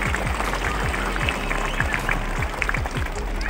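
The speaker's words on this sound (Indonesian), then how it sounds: "Sekali lagi kita berikan aplaus yang meriah kepada Bapak kita." A crowd at a children's fashion week event in Agats, Asmat, Papua applauds an official, dense steady clapping that carries on loud throughout.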